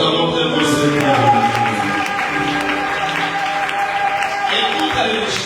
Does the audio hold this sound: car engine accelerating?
no